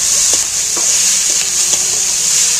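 Chopped onions are stirred and fried in a pan of hot spiced oil for a chicken dish, a loud, close, continuous sizzle broken by several spatula scrapes.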